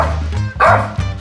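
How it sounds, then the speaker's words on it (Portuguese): A dog lets out a few loud, close barks and yips in quick succession, with whimpery edges, over barely a second. "Só vai ter latido nesse vídeo"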